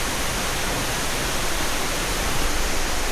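Pahangog Twin Falls in Dimiao, Bohol, a waterfall roaring as a steady, dense rush of falling water, loud and continuous with no voices over it.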